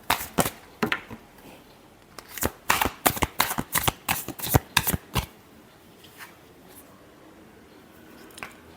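Tarot cards being shuffled during a love reading, a quick run of crisp riffling slaps and flutters in bursts over about five seconds, then quieter with a few faint taps.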